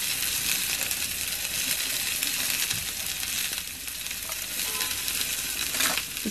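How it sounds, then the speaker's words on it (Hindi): Shredded cabbage sautéing in a pan for a dry cabbage and potato dish, a loud, continuous hiss and sizzle with occasional scraping of the spoon, no talk. "इसे थोड़ा सौते कर लेंगे यानी थोड़ा सा भून लेंगे"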